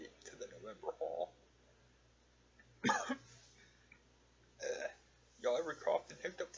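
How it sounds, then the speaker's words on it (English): A man coughs and hiccups at the same moment, one sharp, abrupt burst in a quiet indoor room, with his talking before and after it. "Y'all ever coughed and hiccuped at the same time?"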